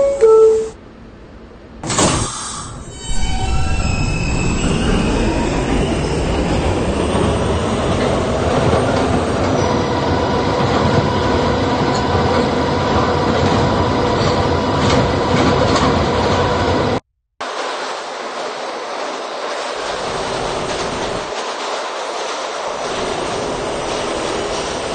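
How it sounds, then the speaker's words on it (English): R160B subway train on the B line running between stations, with a chime and door sounds at first, then a loud, sustained rumble and whine of motors and wheels. The rumble briefly cuts out near the end. "This is a Candlin-bound B train."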